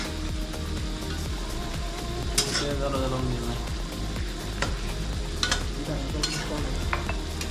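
Eggs being coated with gravy in a hot pan for Indian egg curry, with steady sizzling and frying under repeated spoon stirring and occasional sharp scrapes and clinks of the utensil against the pan.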